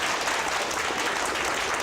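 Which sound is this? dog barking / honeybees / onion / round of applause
round of applause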